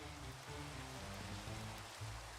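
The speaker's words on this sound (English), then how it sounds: "Is it normal that my world rains this much?" Steady rain falls in a Minecraft-style video game world, a dense even patter of drops on surfaces with no talk over it.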